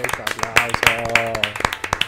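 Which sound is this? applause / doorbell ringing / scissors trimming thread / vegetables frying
applause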